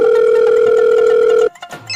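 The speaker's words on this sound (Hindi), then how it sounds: "जा रही घंटी" A phone call rings out over a speakerphone as a loud, steady electronic tone that holds for about a second and a half and then cuts off, followed by a few faint handling noises.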